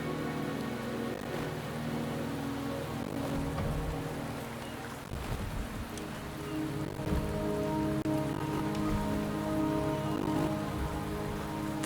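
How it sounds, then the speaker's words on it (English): Steady rain falls across the scene in the video game Wuthering Waves, a constant even wash of drops and patter with a low rumble beneath, holding at the same level throughout with no voices. "The rain is subsiding, and the sky will soon clear."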